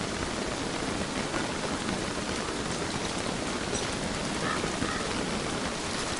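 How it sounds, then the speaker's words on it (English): Steady, dense downpour from the rain of frogs in the video game Don't Starve, a continuous hiss filling the whole stretch at even loudness with no talk over it. "Yep, definitely a rain of frogs."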